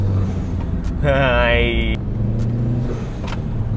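A 1300 cc car engine revs briefly under light throttle, its pitch climbing for about a second before dropping back to idle, with people talking inside the car.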